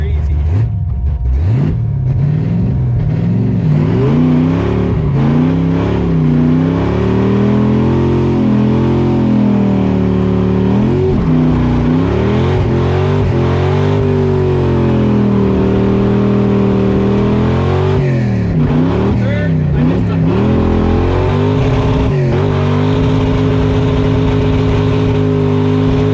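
A C3 Corvette engine revving as the car accelerates through the gears, loud and close with rising and falling pitch sweeps, while people talk over it.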